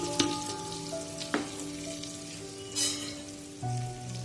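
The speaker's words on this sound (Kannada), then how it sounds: "ಈಗ ಎಣ್ಣೆ ಬಿಸಿ ಆಗಿದೆ. ಆಗಲೇ ತಗೊಂಡಿದ್ದ ಮಸಾಲ ಪದಾರ್ಥ ಎಲ್ಲ ಈಗ ಇದಕ್ಕೆ ಸೇರಿಸ್ಕೊಳ್ಳೋಣ." Spices tipped into hot oil in a pan for tomato rice bath sizzle steadily, with a few sharp clinks and stirring scrapes over a continuous frying hiss.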